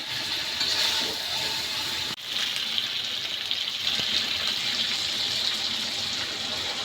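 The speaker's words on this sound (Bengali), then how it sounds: "এবার জল দিয়ে দেবো।" Water pours steadily into a pot of cooking chicken curry with potatoes, a continuous splashing gush with a brief break partway, heard close and alone.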